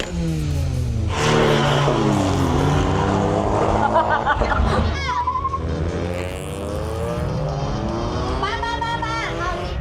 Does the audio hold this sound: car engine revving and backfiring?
yes